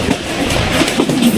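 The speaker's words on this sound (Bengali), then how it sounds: "আর এই বৃষ্টির দিনে ভ্রমণ করছি মল্লিকা কমিউটার ট্রেনে, যাচ্ছি রাজশাহী থেকে চাপায়" On a rainy day, the Mallika commuter train rolls from Rajshahi toward Chapai with a loud, steady rumble and rattle from inside the carriage, without pauses.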